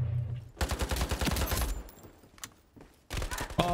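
An AK rifle with a sight fires in Ironsight: loud, rapid automatic bursts at close range, a short one, a long rattling stream, a pause, then another burst.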